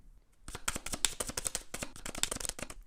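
Unsleeved playing cards from the deck-building game Dominion are riffled and shuffled close by, a dense run of rapid crisp flicks and snaps that starts after a brief pause and continues steadily.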